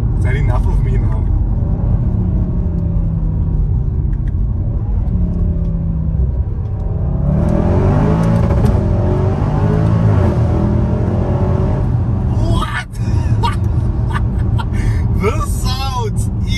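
A very loud SUV exhaust booms and rumbles while the vehicle is driven, the engine revving up and surging partway through. A voice talks over the engine noise.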